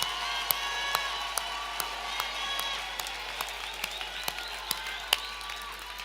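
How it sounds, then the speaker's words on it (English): Graduation audience applauding for the class of 2023 at a TVET college ceremony, a steady field of many hands clapping in a hall with scattered louder claps standing out, no talk over it. "Can the rest of the house give a round of applause to the class of 2023?"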